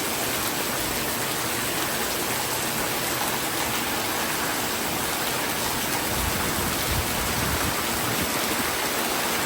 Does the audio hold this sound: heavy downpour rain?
yes